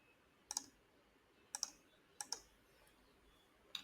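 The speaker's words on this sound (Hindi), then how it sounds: "नेक्स्ट बटन पे यहाँ पे मैं क्लिक करूंगा" Faint, crisp mouse clicks on a Next button in a Google Ads setup screen, four or five sharp ticks spaced roughly a second apart, some paired closely, over a quiet room hush.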